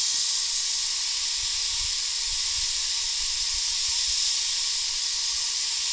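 A hot air rework gun blows steadily on a surface mount switch to melt its solder, producing a loud, constant airy hiss with a faint low hum beneath and no talking.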